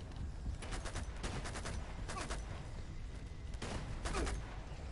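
Gunshots in the video game Uncharted 2: Among Thieves, heard as repeated clusters of rapid automatic fire, moderately distant and fairly quiet, with short pauses between bursts over steady background noise.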